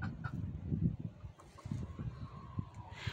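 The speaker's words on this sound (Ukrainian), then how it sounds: "почали кохін-хіночки нести яйця" Cochin hens cluck close by in a laying coop, with a run of soft, uneven clucks and a few sharper notes over low background noise and no talk.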